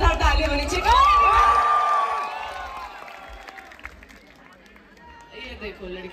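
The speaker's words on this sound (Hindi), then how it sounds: "एक बार पूरी जनता के लिए जोरदार तालियां होनी चाहिए" A college festival crowd cheers and whoops for dancers, with a loud rising shout early that fades into scattered crowd noise and voices talking over it.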